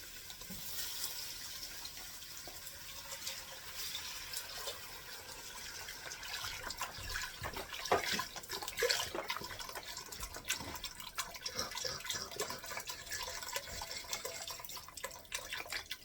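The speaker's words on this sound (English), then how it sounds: "So now we need 4 cups of vegetable broth." Vegetable broth poured into a pot, a faint continuous splashing and trickling of liquid with small drips, quiet and steady over the whole stretch.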